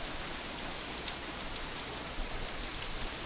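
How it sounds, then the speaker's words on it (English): In a visual novel game scene, a heavy, steady rain hisses continuously with wind, a dense even roar and no voices over it. "Even she's reduced to shouting to try and be heard over the combined noise of the wind and rain."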